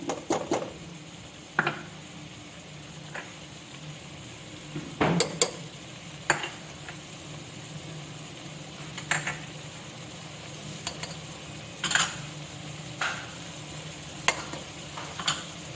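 Potatoes, eggs and onions for a curry base stirred in a frying pan, with a soft, steady sizzle under intermittent spoon scrapes and sharp clinks against the pan, close and fairly quiet with no talking.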